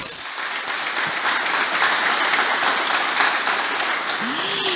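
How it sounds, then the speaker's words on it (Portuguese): Warm, continuous applause from an audience of building managers at a Building Manager's Day evening event, a broad steady clatter of many hands at moderate distance. "Eu vou pedir aí uma salva de palmas para vocês."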